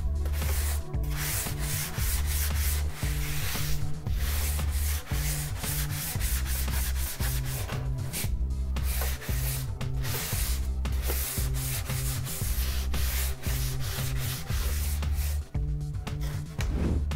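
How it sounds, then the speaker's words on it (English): A model aircraft's surface is rubbed clean in steady, repeated strokes, a close and continuous scrubbing that runs the whole time without any talk. "Now I'm going to go ahead and clean up the rest of the aircraft"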